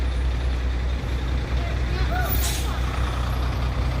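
Heavy trucks rumbling through slow traffic at roadworks on a collapsed road in Camarines Sur: a constant loud low engine drone with a brief hiss of air brakes midway, nearby and steady.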